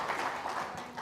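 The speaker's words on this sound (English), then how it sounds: "Let's give a warm round of applause to the elders and their analysis for the last hour." Audience applause for a panel of elders at The Forum of Energy, a brief patch of moderate clapping heard from the room.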